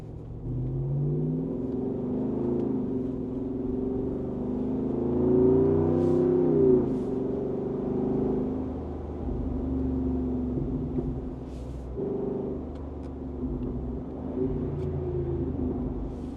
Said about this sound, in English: Performance exhaust on. It is a little bit louder of an idle rumble.